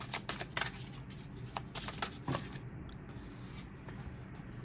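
Tarot cards are shuffled and drawn close by, with a burst of crisp riffling flicks and taps followed by quieter slides and rustles.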